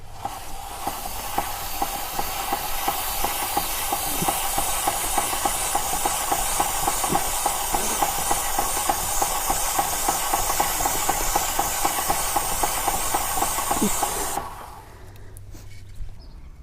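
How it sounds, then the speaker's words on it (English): Chain lube sprayed onto the drive chain of a Honda CB500X motorcycle, a loud steady aerosol hiss held for about fourteen seconds before cutting off sharply. "I'm just going to get the chain lube on there."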